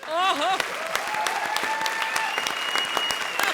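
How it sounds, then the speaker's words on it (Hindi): Studio audience at a televised comedy show claps loudly and steadily, sharp hand claps standing out from the crowd, while music with sustained tones and gliding notes plays underneath. "संजीव शर्मा जी के लिए जोरदार ताली बजाइए"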